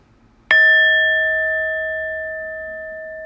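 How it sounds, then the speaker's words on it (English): A single singing bowl struck once, ringing out with a clear, steady tone that sustains and slowly fades over a few seconds. "So let's have a little ring of the bell here, of the bowl."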